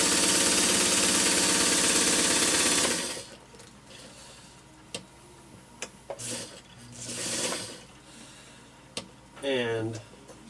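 White model 162 sewing machine stitching a zigzag pattern: a close, busy mechanical whir with rapid ticking for about three seconds, then it stops, leaving scattered small clicks and a short voice sound in a quiet room.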